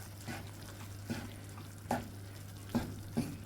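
Chicken coated in coriander powder, garam masala and salt being stirred in a pan for butter chicken, with a steady low sizzle and a few soft scraping knocks of the spoon at irregular intervals, quiet and close.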